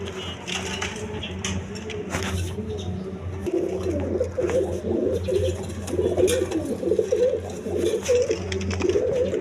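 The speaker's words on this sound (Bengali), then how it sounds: "এইখানে এক পেয়ার গিয়াসুলি কবুতর আছে, দেখেন, নিতে পারেন।" Several pigeons coo in low, throaty bursts at a pigeon farm, overlapping continuously against a busy background of scattered chirps and clatter.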